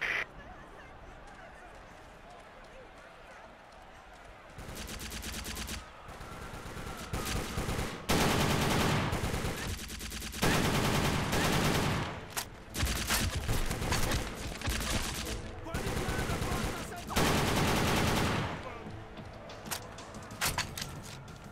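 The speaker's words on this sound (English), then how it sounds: "We're drawing new enemy fire at the memorial." Sustained enemy gunfire in the Secret Service video game, with dense bursts of automatic fire and overlapping shots. It starts faint and sparse, then grows loud and nearly continuous from about five seconds on, with brief gaps between volleys.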